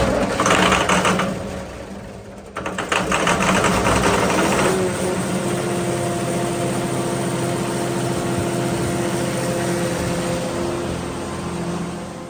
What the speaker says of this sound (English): pivot power, whatever you want to call it, standalone engine, like 150 horse engine